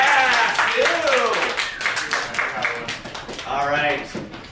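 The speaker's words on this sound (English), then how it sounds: "Can we give Sue a round of applause?" Audience clapping at a presentation, with scattered, uneven claps that sometimes become distinct individual hits, mixed with voices speaking and calling out over the crowd.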